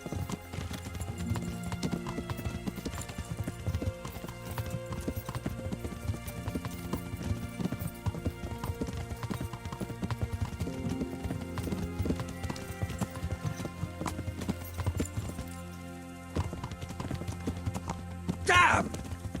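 Horse hooves clip-clop steadily along beneath a continuous music bed, with a brief louder flurry of sound near the end.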